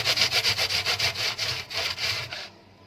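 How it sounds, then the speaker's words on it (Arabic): A knife slices onion on a cutting board in a quick rhythmic series of about a dozen close, crisp chopping strokes, then stops abruptly into near silence. "هقطع النص التاني صغير خالص"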